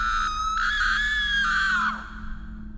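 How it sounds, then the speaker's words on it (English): A woman's high, piercing scream in an animated horror story, sustained for almost two seconds then cut off abruptly, loud and alone over a faint low hum. "she screamed"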